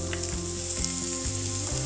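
Chopped medium onion frying in oil in a pan, a steady close sizzle running throughout with a few soft stirring scrapes, no voices.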